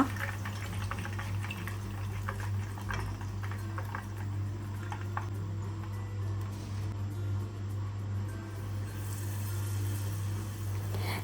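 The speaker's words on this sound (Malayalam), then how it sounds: "ഇതാ ഇതിനകത്ത് ഡിപ്പ് ചെയ്തിട്ട് ഇതാ ഇങ്ങനെ ഡീപ്പ് ഫ്രൈ ആക്കിയിട്ട് എടുക്കുക" Batter-dipped pieces deep frying in hot oil, a steady bubbling and crackling sizzle with a low constant hum beneath it, sustained throughout.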